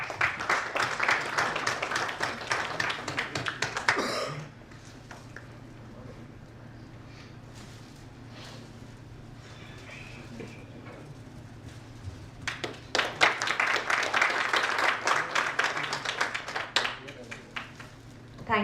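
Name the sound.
audience applause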